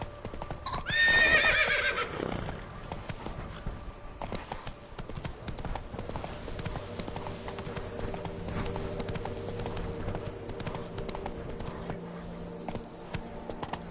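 Horse hooves clip-clopping at a gallop in The Witcher 3, loud at first with a sharp whinny near the start, then a steady rhythmic hoofbeat under a game soundtrack.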